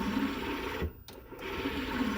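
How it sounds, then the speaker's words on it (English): A servo motor parked and holding position on 220 volts gives off steady coil noise, a continuous mechanical hum that dips briefly near the middle before resuming. "the coils of the motor trying to apply the force to keep that position"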